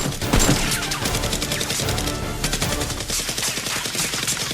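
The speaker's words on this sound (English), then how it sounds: "They don't hesitate to start shooting." Rapid bursts of toy foam-dart blasters firing in a police SWAT Nerf battle, dense overlapping shots and clatter running loud and continuous throughout.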